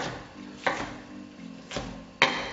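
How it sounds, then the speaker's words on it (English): Three sharp knife chops through tomato on a cutting board, spaced roughly a second apart, close and fairly quiet in a kitchen. "I like to give it a rough chop first"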